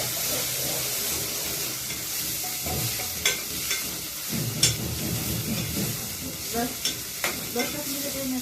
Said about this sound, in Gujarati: ડુંગળી અને ટમેટું મોરેલ છે નાખી દઈએ.